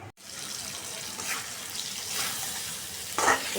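Pointed gourd frying in a pan for a rohu fish curry gives a steady broadband sizzle with faint stirring, moderately loud and continuous, with a brief louder scrape near the end.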